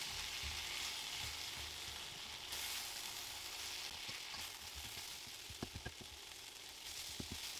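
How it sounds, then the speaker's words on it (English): Steady, hissing sizzle of onions and spring onions frying in a hot wok, with occasional knocks and clatters of stirring toward the end. "In with the spring onions, in with the onions, and give these a good frying."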